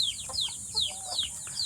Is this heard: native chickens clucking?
yes